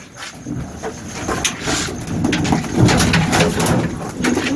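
Wild pigeons cooing in soft, low repeated calls amid a busy outdoor background with some rustling noise.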